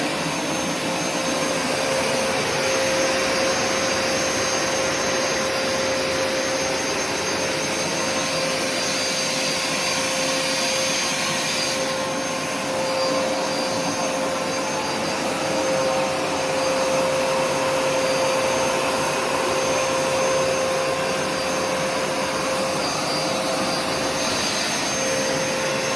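A vacuum cleaner drones steadily and loudly throughout, close up with a constant whine and no voices, during a carpet cleaning session with Rainbow, Eureka, Bissell and Hoover machines.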